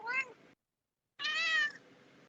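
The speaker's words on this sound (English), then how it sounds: "Yeah, that was my cat." A domestic cat meows twice nearby, a short rising cry followed by a longer, louder drawn-out meow after a brief silence.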